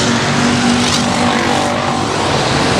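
Race cars roar loudly through a Boothill Speedway heat race, a dense continuous engine drone with tire noise filling the track.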